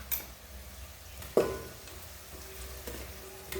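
Spices sizzle softly in hot oil in a pan while cooking a cluster bean curry, with one sharp clink of a utensil against the pan partway through. The frying is faint and steady.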